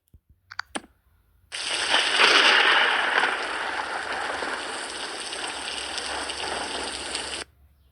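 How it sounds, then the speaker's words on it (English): A few quick taps on a phone, then a recorded rain-and-thunder ringtone plays: a broad, steady rushing hiss lasting about six seconds before cutting off abruptly. "Rain and thunder."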